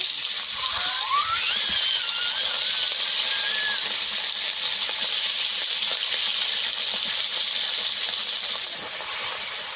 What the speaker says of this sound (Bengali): আমারও মাছগুলো ভেজে নেব।